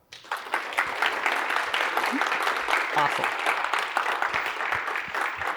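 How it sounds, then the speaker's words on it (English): Sustained applause from a conference audience for a speaker, loud and steady for several seconds with scattered cheers, and a voice speaking briefly over it. "Let's give her a big round of applause."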